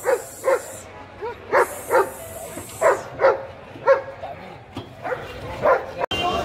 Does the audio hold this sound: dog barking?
yes